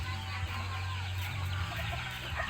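A flock of chickens and small chicks clucking and peeping together, a continuous busy chorus of overlapping calls at close range with no talk.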